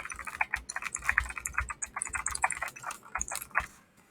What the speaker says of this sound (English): The keyboard's a beast. It has a monstrous clickety clack.